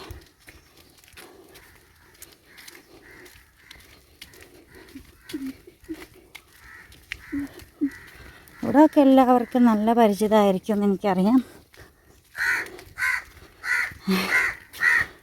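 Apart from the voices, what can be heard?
crows cawing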